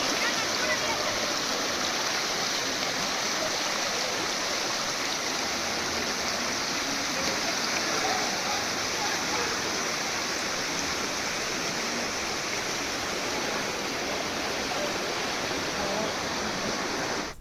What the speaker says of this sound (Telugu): నల్లమల్ల అటవీ ప్రాంతంలో వాగులు వంకలు పొంగిపొర్లుతుండగా